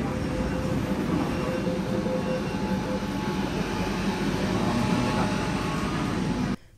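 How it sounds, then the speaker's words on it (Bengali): A Kolkata metro train runs through a tunnel beneath the Ganges, giving a steady, loud rumbling roar of wheels and carriage that holds constant throughout before cutting off abruptly at the end. "তারপর মেট্রো ধরে গঙ্গার নিচ দিয়ে 10 মিনিটের মধ্যে এসে পৌঁছলাম স্প্ল্যানেড।"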